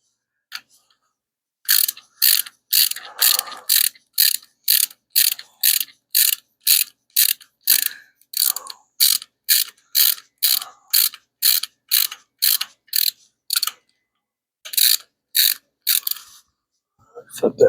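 Ratchet and socket backing out an engine bolt during a hemi swap into a Plymouth Duster, a long run of evenly paced clicking strokes, close and crisp, with brief pauses and faint speech.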